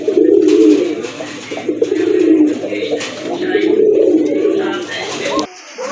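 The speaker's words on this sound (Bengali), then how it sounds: "বিগ সাইজের আরেকটা নর কবুতর, রাজগোল্লা নর কবুতর" A big male Rajgolla pigeon cooing at a pigeon sale, a loud, close, rolling coo repeated in three long phrases with little pause, ending abruptly.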